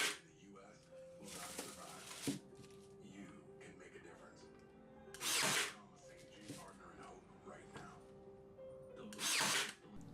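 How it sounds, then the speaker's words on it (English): Cedar box sides are sanded with the grain. Loud, rasping bursts of abrasive noise come roughly every few seconds against a quieter workshop background with a faint steady tone. "I sanded the sides to smooth them out, making sure to sand with the grain"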